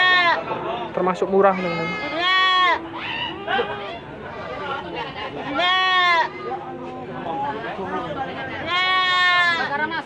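Goats bleat at the Gondanglegi livestock market in Malang, East Java, wavering cries rising repeatedly over a busy crowd, with a nearby voice talking and market chatter around.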